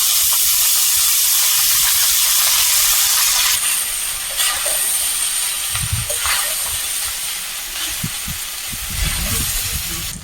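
Steady hissing steam and sizzle from a hot pot as rice goes in with bay leaves and ginger for pulao, with faint scraping and clinks near the end; no talking.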